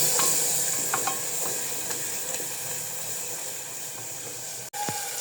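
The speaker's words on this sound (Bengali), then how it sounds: "এখন সব মশলা দিয়ে দেব। হলুদের গুঁড়া, মরিচের গুঁড়া দিয়ে দেব, আর দিয়ে দেব ধনিয়ার গুঁড়া। দিয়ে মশলাটা যে ভালো মতো একটু কষাই নেব।" Turmeric, chili and coriander powders frying in a pan for khichuri, a steady close sizzle and hiss with occasional light scrapes of stirring.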